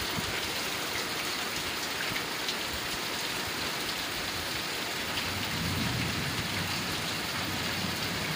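Heavy rain pours steadily and loudly against a window, a dense unbroken hiss of drops beating against a surface, with a low rumble swelling near the end.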